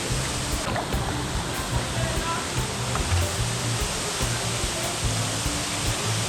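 MacMay Waterfall near Georgetown, St. Vincent, pours in a constant broad rushing roar at an outdoor cooking spot, steady and fairly loud throughout with faint voices mixed underneath.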